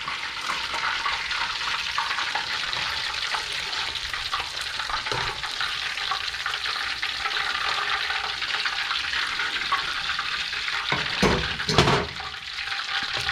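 Korean-style chicken deep frying in hot oil, a steady dense bubbling hiss that holds close and loud throughout, with a brief louder disturbance near the end.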